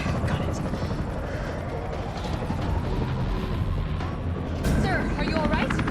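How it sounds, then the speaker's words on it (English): A helicopter in the video game Resident Evil 3 gives off a steady whirring rumble, blended with dense game ambience and distant booming effects. "There's a helicopter waiting to take you to safety."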